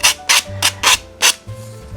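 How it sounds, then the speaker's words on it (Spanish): Ends of small wooden sticks being sanded by hand, five quick rasping strokes in an uneven rhythm, close and fairly loud, followed by softer rubbing. "Luego estos extremos los lijaré."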